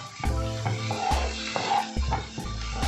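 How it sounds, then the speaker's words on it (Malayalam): Three large green chillies sauté in a pan with a steady sizzle, broken by repeated scraping and clinking of a spatula stirring them about in a quick, uneven rhythm. "നന്നായിട്ടൊന്ന് വഴറ്റി കൊടുക്കാം."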